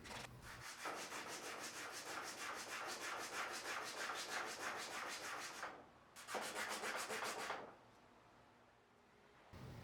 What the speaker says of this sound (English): I'm using 80 grit sandpaper here, which goes extremely quickly